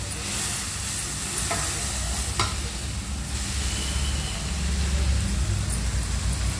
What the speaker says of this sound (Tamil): இது சுருண்டு வந்ததும் கொஞ்சமாகிடும் அது வரைக்கும் நல்லா வதக்கிட்டே இருக்கணும்